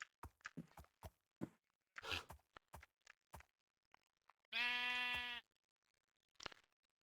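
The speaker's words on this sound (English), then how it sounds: "Sheep number 1." A sheep in the video game Minecraft gives one loud, drawn-out bleat partway through, set among soft, scattered clicks and footstep-like taps from the game.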